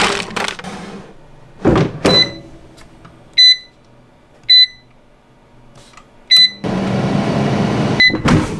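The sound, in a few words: air fryer cooking frozen vegetable sticks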